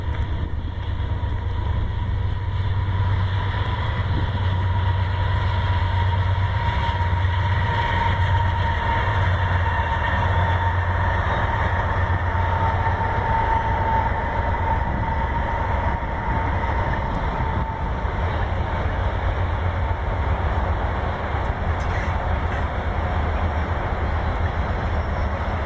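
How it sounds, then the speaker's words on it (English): A train passing through a wooded area, heard as a steady, continuous low rumble with a faint tonal hum, holding constant throughout. "There's the train. Wanna check it out? It's coming."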